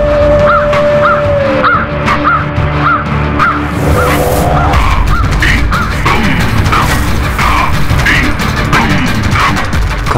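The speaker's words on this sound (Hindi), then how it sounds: "काक" Crow cawing repeatedly in a loud, rhythmic series of harsh calls, layered over dramatic background music and a sweeping whoosh effect.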